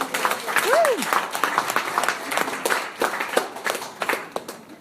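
Audience applause at a launch party, a steady wash of clapping that swells early and then carries on at a moderate level, with a voice speaking over it and a brief whoop near the start.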